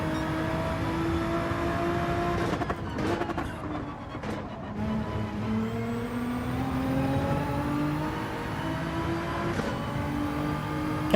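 A Nissan GT-R race car in Gran Turismo 7 holds a steady, loud engine drone with rising and falling pitch through gear changes, running alone without talk.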